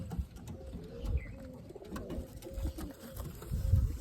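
Pigeons coo in low, soft, repeated murmurs close by, several birds overlapping in an uneven rhythm, with no voices.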